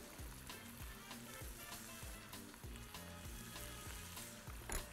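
Vegetables frying and being stirred in a pot while cooking a chicken and zucchini kabsa, a steady sizzle with rhythmic low scraping and clunking of the stirring utensil, close and alone with no talk.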